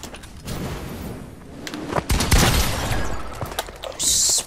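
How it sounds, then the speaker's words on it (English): Rockets explode in a Fortnite Battle Royale match, a volley of loud booms and blasts in quick succession mixed with chaotic game noise, without speech. "Spamming me with rockets."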